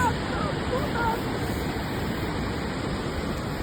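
Steady rushing water of a waterfall pours without pause, a dense broadband roar, fairly close and constant.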